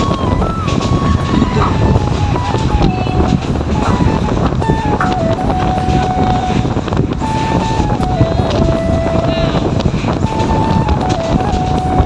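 A train runs through dense forest near Gazipur, Bangladesh, a loud, steady rumble and rush of wind with a wavering tonal whine drifting over it throughout.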